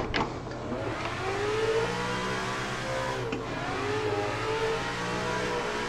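An E36 car engine revs hard under throttle while drifting in the Assetto Corsa racing simulator, rising and falling in pitch through sweeping whining tones, loud and close, with no voices.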